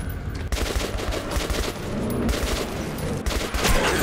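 Rapid gunfire from the video game Metro 2033 Redux, a dense, steady stream of sharp shots and bursts packed tightly together with a few brief breaks, loud and continuous throughout.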